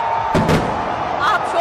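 Fireworks burst at the Minar-e-Pakistan Independence Day celebration on 14 August, with a pair of sharp bangs followed by another a moment later over a constant crowd roar.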